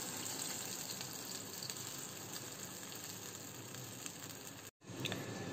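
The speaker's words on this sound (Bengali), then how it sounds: "এখন আমি এর মধ্যে পরিমাণ মতো জল অ্যাড করে দিচ্ছি ঝোলের জন্য।" Water pours steadily into a curry pot on the stove while cooking, a continuous close gushing wash that breaks off briefly near the end before resuming.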